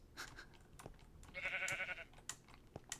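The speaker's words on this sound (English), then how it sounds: "That's just a sheep eating grass." Sheep in the Minecraft video game give a short bleat in the middle, set among light clicks and scattered small game noises, fairly quiet overall.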